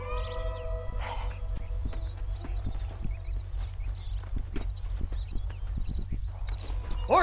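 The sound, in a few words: horses clip-clopping, from the video game Red Dead Redemption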